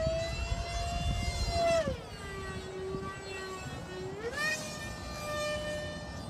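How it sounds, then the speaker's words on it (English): A Top RC Swift v2 model jet glider's 64mm electric ducted fan whines past, its high, steady pitch dropping as it passes and then rising again as it returns. "You just get that straight sound of the EDF."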